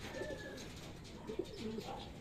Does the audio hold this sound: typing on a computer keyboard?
no